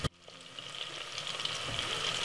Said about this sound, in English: we're just gonna be frying up this around for about 5 to 6 minutes. All right, guys, in that nice butter oil.